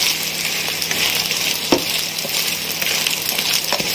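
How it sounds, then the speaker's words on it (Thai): Big green beetles crackle and sizzle steadily in hot oil as they deep-fry until crispy, with a constant dense frying hiss and a few small pops and stirring clinks, no voices. "ทำการทอดนะครับให้กรอบนะครับนะ"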